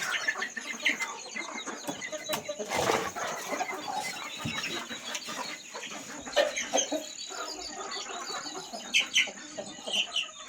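Free-range country chickens clucking and calling near a fire on a cold-weather farm, with scattered clucks and chirps at close range and someone talking intermittently over them.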